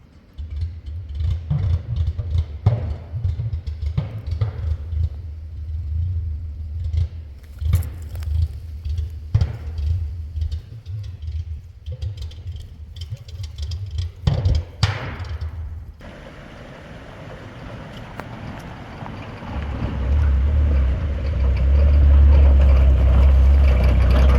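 An old Suzuki engine cranks and sputters through several uneven catches, then fires and runs briefly with a rising rough roar toward the end, close by.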